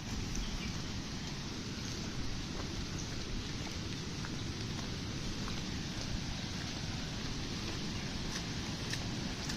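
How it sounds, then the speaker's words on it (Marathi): Steady monsoon rain hisses throughout in a Konkan village near a waterfall, with a dense low rumble beneath, a few faint bird calls or drips poking through; no voices. "पाऊस पुन्हा आलेला वाटतं पाऊस सारखा येतोय जातोय"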